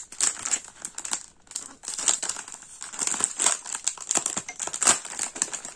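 A package is unboxed. Wrapping crinkles and crumples up close, with bursts of rustling and scrunching in uneven waves and brief pauses between handfuls.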